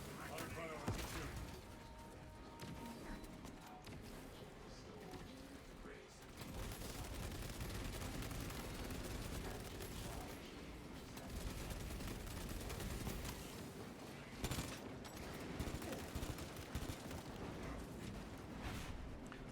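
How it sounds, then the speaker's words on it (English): Sustained gunfire in a Warhammer space marine video game, dense rapid bursts of shooting and blasts running throughout at steady loudness, with a brief lull early on. "High priority shooting."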